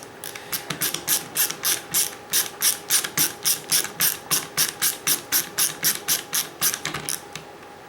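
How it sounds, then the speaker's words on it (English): A ratcheting screwdriver drives pre-threaded screws into an IBM Model M keyboard from December 1989 during a bolt mod, making loud, close, evenly paced ratchet clicks, about two to three per second, with no other sound. "This is a ratcheting screwdriver."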